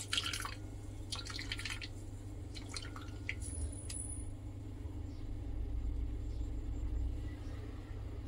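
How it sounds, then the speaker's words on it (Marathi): Juice from grated coconut drips and trickles while the coconut is squeezed by hand, heard as a few faint splashes near the start over a steady low rumble in the background. "हा बघा, असा रस त्याचा निघतो। थोडंसं असं दाबायचं।"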